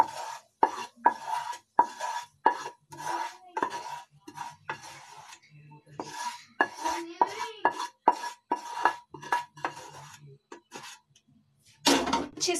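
Melted jaggery is poured and stirred into a raw turmeric mixture for ladoos, with a steady run of close scraping and clinking spoon strokes against the pan and brief pauses between them.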